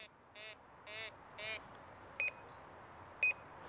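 Beeps from a Quest X1 metal detector during ground balancing, several short electronic tones spaced apart, fairly faint, with a couple of sharper higher blips near the end.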